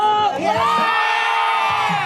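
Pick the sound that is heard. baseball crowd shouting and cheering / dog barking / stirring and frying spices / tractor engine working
baseball crowd shouting and cheering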